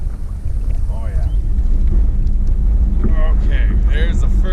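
Wind buffets the microphone on a fishing boat out among bulrushes, a heavy low rumble throughout, while birds call faintly nearby.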